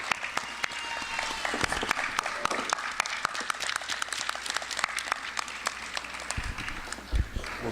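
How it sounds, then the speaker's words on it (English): Applause at a Newark Public Schools advisory board meeting, a room full of people clapping steadily with sharp individual claps throughout, sustained for nearly eight seconds with a few low thumps near the end. "Please give a round of applause"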